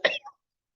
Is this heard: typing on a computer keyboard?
no